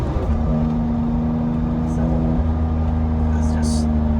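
A 1000 hp Porsche 911 997.1 Turbo runs steadily while driving, its engine a continuous low drone with a sustained tone and a slight shift in pitch partway through, heard from inside the car with faint brief noises on top.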